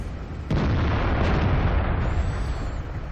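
A Jagdtiger tank destroyer gun fires in World of Tanks, one sharp, loud blast followed by a rumbling, fading roar that lasts a few seconds.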